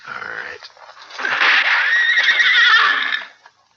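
A horse shot during a Western gunfight gives a loud, shrill whinny that rises and wavers for about two seconds before fading, after brief rough noise at the start.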